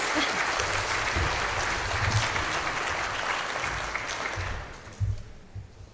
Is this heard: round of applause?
yes